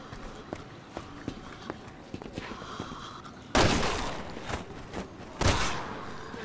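Two loud, sharp gunshot blasts ring out a couple of seconds apart in the video game Resident Evil 6, following a stretch of quieter footsteps and ambient game noise.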